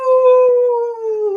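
A person's voice imitates a wolf howl in one sustained, steady, loud tone that slowly sinks in pitch over about a second.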